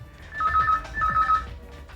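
A telephone rings in two electronic trill bursts, loud and close indoors, with a short gap between them.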